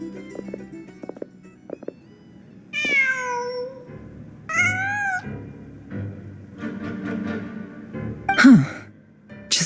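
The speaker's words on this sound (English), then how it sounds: "Just a cat." Cat in the video game Genshin Impact giving several drawn-out, expressive meows with pauses between them, loud and close, plus one sharp squeaky cry near the end.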